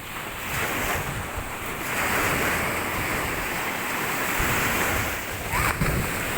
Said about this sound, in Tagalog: Panatag yung dagat. May kunting alon, pero dito na sa Pangpang.